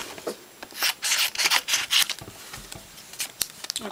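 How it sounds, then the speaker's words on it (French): Scissors snip through Santa's beard cut from cardstock, a series of short crisp rubbing cuts in quick irregular bursts, close and moderately loud with no talking. "là je viens de découper là, la barbe du Père Noël"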